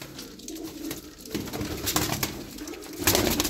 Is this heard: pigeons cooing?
yes